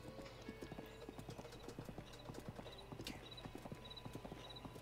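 Horse hooves clip-clop at a steady walking rhythm in the Zelda Breath of the Wild video game, playing from a TV as a continuous run of even, moderately loud clops with faint background tones and no clear talk.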